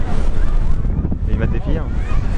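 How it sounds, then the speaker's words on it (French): Strong wind at Victoria Peak in Hong Kong buffets the microphone in loud, continuous rumbling gusts, with a voice faintly audible through the roar. "Ah là il y a beaucoup de vent."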